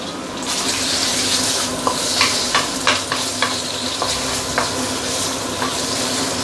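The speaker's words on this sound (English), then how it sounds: "the oil has started to sizzling. This is the time where we can put in the marinated pork." Marinated pork frying in hot oil in a wok for Kuala Lumpur Hokkien mee, a loud steady sizzle with repeated scraping clinks of a spatula stirring the meat, close and continuous with no talking.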